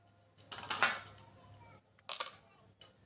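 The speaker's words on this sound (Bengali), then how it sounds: "আর কিন্তু আইস কিউবগুলো দিয়ে দিচ্ছি" Ice cubes dropped into freshly made grape juice, a few quick clinks and clatters in two short bursts, close and fairly quiet, with near-silence between them.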